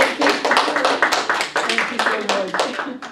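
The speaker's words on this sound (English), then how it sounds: "So I just want all of us to give another round of applause" A small audience at a rural gender empowerment event claps in quick rhythmic bursts, close and loud, sounding like a modest group of hands rather than a large crowd.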